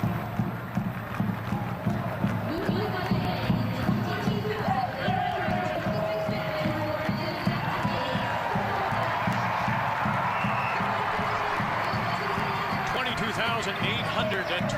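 Stadium crowd at a Canada versus Germany women's national team soccer friendly in Ontario, a broad sustained roar and murmur filling the space, steady and fairly loud beneath a commentator's voice.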